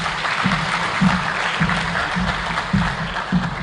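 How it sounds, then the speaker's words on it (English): An audience at a formal Africa Day lecture applauds the speaker with a dense, sustained roar of clapping, while a low rhythmic thump pulses beneath it at regular intervals. "Another round of applause for him"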